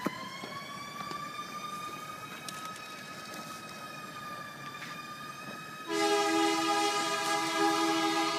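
A passing ambulance siren wails loudly and continuously, starting as a steady tone with a rail-like drone, then abruptly shifting to a harsher, multi-toned blare.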